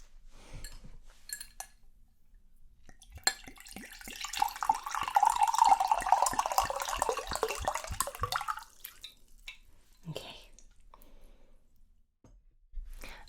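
Water poured from a big bottle into a glass, a steady gurgling stream that rises in pitch as it fills for several seconds, framed by soft clinks and handling sounds, close and quiet.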